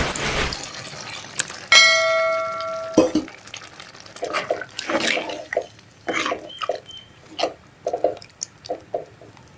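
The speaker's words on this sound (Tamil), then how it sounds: "இதில் கொஞ்சமாக தண்ணி சேர்த்துக்கலாம்." Water splashes into a pot of dried fish curry being cooked, followed by ringing metallic clinks and the clatter of stirring nearby.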